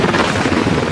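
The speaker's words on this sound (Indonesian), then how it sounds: "Pada akhirnya helikopter itu pun berhasil mendarat walaupun dengan keadaan rusak parah." A badly damaged helicopter touches down in a rough crash landing in an action film about elite troops and a Brazilian cartel, its rotor roar loud, dense and steady through the whole second with no talk.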